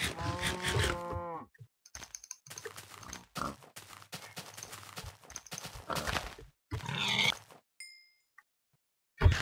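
Cows in Minecraft low repeatedly in a series of clear moos mixed with clip-clopping footsteps and small game sounds, ending in a brief silence.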